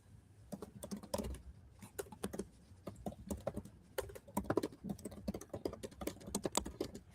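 Rapid typing on a computer keyboard during a live engineering build session, a steady patter of soft, close key clicks with brief pauses and no talk.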